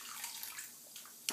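A Lush rose bath bomb is swished through soapy bath water, making soft, faint sloshing and swirling water sounds close by, ending with a small splash.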